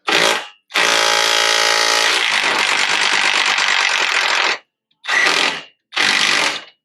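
A ratchet clicks in fast rapid bursts while a bolt on a Ford Ranger cab mount is tightened, with one long run and then two short separate bursts, loud and close.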